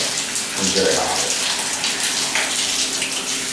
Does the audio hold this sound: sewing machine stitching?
no